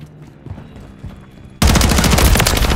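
Gunfire from Call of Duty: Modern Warfare III multiplayer erupts suddenly after quiet ambient rumble and scattered faint shots, becoming a loud, dense, continuous burst of rapid automatic fire that fills the rest of the moment.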